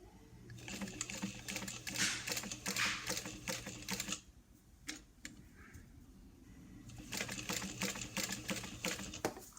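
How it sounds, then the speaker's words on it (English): A sewing machine runs slowly in steady rapid stitching bursts as it top stitches over existing holes in fabric, pausing briefly midway before resuming, close and clear with no talk. "I'm going to go slow and try to sew right over these holes that I already have"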